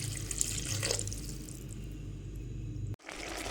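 Water is poured steadily while cooking a veg mushroom biryani, a close, continuous splashing stream that cuts off sharply near the end and then resumes briefly, with no talking.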